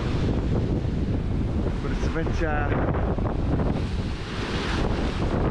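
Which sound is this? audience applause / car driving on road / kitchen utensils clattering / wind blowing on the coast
wind blowing on the coast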